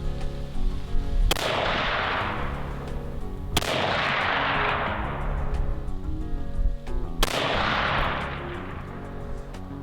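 Three loud rifle gunshots at a shooting range, each a sharp crack followed by a long rolling echo, spaced a few seconds apart with no talk.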